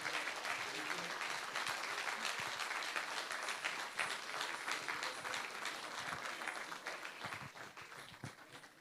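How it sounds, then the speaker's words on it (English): An audience at a Kuchipudi dance recital claps steadily and continuously after the performance, a sustained wash of many hands, fairly distant and soft, with slight swells and no voices. "Honor her with your claps."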